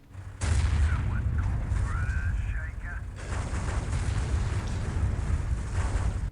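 Artillery fires in the strategy game Dawn of War, with booming blasts rolling into a sustained barrage after a sudden start, loud throughout and partly under a talking voice.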